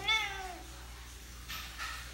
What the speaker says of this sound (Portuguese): Fala, miau pros seus fãs.